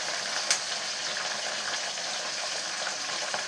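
Curry leaves, onions and green chillies fry in a pan with a steady, close hiss and crackle that holds evenly throughout, with one brief sharp pop near the start.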